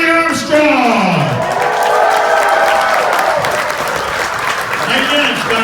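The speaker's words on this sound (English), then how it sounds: "Give yourselves a big round of applause" A loud crowd at a motorsports event applauds and cheers continuously, with whoops and shouts rising over the clapping while a voice calls out over it.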